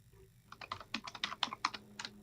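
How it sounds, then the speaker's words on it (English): Rapid clacking of keys on a computer keyboard, a quick uneven run of distinct taps, close and moderately loud. "That typing's really loud."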